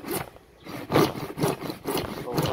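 A hand saw cuts wood for a homemade chopping board in a series of rough, rasping strokes at a steady back-and-forth rhythm, close and fairly loud.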